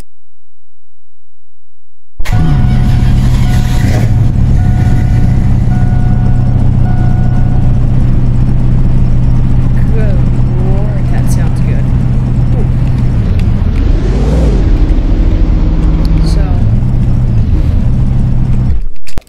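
A 1969 Dodge Coronet engine fires up after a moment of silence and settles into a loud, steady rumbling idle, with a brief rev partway through.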